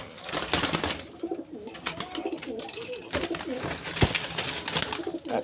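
A tournament-flown pigeon cooing close by, repeated throaty coos in a steady rhythm over a busy background with some rustling, loud and near.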